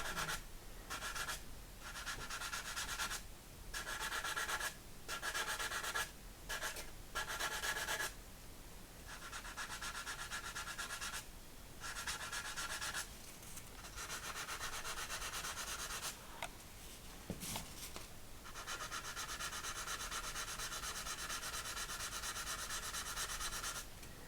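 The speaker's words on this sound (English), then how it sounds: "after doing a little bit of sanding, I've got that level" Steady rhythmic rasping of sanding on a small hard plastic part of an Airfix 1/72 B-17G model kit continues in close strokes, pausing briefly now and then before resuming.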